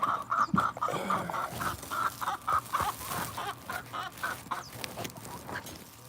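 Chickens in a coop box clucking, a series of short, rhythmic clucks and murmurs close by at moderate volume, with rustling and a few sharper calls scattered among them.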